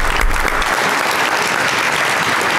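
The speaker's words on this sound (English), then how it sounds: "Another round of applause." An audience claps continuously and fairly loudly in a room, a dense, even round of applause lasting the whole stretch without a break.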